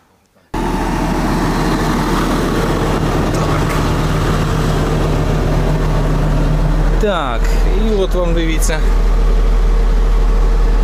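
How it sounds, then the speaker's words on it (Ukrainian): Valtra S374 tractor disking virgin soil, a loud steady diesel drone heard close from the cab after a brief quiet start, with someone talking over it. "І трактор працює."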